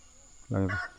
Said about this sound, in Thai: ฟ้าหลังฝน เสียงเป็ดเสียงไก่กลับทักทาย